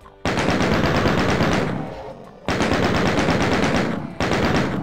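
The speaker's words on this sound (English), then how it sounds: "blast them with the shotgun like that" Two loud, sustained bursts of rapid gunfire from the shotgun in Doom 2, each roaring for about two seconds before tailing off, with a third burst starting at the end, no voices over them.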